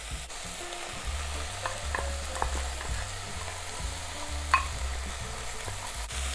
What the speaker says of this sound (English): Cook and stir for another few minutes